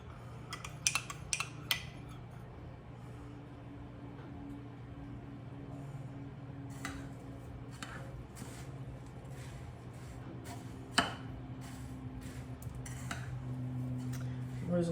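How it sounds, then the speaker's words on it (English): Melted butter, half a cup, being stirred into cheesecake crust crumbs in a bowl, with intermittent clinks and scrapes of a utensil against the dish over a low background hum. "So I'll mix my butter in"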